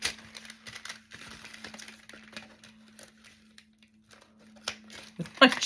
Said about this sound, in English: Just gonna cut that little extra off